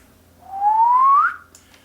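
A single person whistles one smooth rising note lasting under a second, close and clear against a quiet background.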